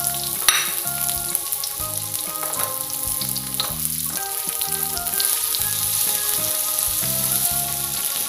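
Shallots and garlic sizzle steadily in hot oil as they fry for a stir-fried flower-chive dish, a dense crackling hiss with occasional stirring and clinking, close and continuous with no talking.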